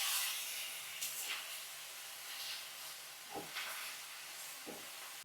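Fried paneer pieces sizzle in a hot pan with a steady hiss throughout, and a few soft stirring scrapes rise out of it now and then.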